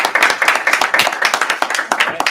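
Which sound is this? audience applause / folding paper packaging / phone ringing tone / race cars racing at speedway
audience applause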